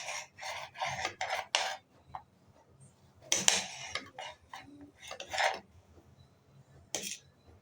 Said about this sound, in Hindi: इस तरीके से आप काटेंगे तो एक साथ आप कितनी सारी तोरी काट लेंगे